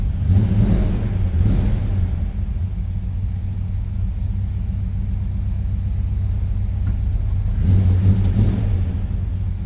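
A 1954 Ford F-100 pickup's Y-block V8 idles with a deep steady rumble, then revs up sharply twice, near and loud, with no talking.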